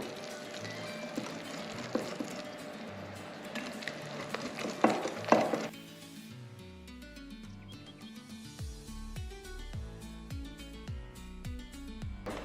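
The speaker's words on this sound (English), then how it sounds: "adding them to the dry ingredients and whisk to form the pancake batter" Pancake batter is whisked in a bowl, brisk clattering and scraping strokes up close for several seconds, then the noise gives way to softer, separate clinking taps.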